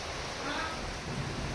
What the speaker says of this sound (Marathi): आणि एवढा पाऊस चालू आहे खूप जास्त.